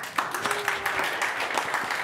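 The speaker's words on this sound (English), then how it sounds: "I did not deserve that applause." Brief, scattered clapping from a conference audience at a JavaScript talk, moderately loud and uneven, with a faint tone running briefly beneath it.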